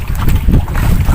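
Strong wind buffeting the microphone at night outdoors on a fishing trip, a loud continuous low rumble with steady gusting and no pauses.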